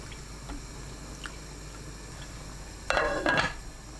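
A metal lid is set onto a pot of kimchi soup made with aged kimchi, a brief clattering clank near the end after a stretch of quiet kitchen background.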